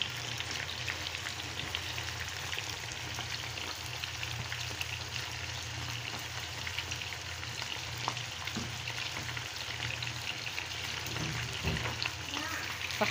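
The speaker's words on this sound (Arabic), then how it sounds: "دلوقتي كده ابتديت ان انا احمر السمان" Quail fry in hot oil in a pan during Ramadan breakfast cooking, a dense, steady sizzle with crackling pops close up, continuing unbroken throughout.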